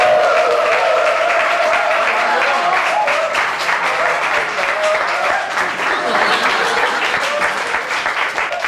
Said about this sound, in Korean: 자, 다시 한번 박수!